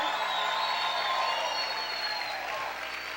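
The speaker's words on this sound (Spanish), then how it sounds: "¿Cuántos pueden gritar y aplaudir fuerte al Rey?" A church congregation applauds loudly and steadily, shouting and cheering under the dense clapping throughout.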